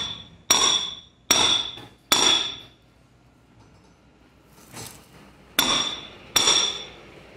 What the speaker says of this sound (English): You can see most of that race is out now from hitting it on the floor.